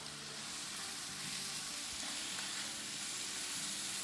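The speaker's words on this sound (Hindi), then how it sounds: "अब इसमें हम डाल देंगे आधा पाउंड चिकन का कीमा" Chicken mince sizzles and fries steadily in a hot pan, a continuous close hiss with light stirring, no talking.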